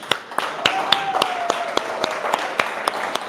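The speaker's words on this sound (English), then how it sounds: "And let's give a round of applause also for our co-host, Agno Nieves." Audience at a tech meetup applauding, with scattered individual claps forming a loose, thin round of applause nearby while talking goes on underneath.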